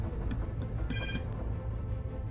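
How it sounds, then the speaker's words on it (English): A mobile phone rings in a short tonal burst over the loud, steady engine rumble of the Cold Waters submarine game. "that's my phone going off"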